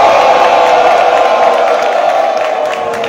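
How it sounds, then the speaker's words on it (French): Loud crowd at a teachers' union general assembly cheering, whooping and clapping in a sustained roar that stays strong and fades only slightly near the end. "Et puis faites du bruit pour ceux qui étaient avec nous."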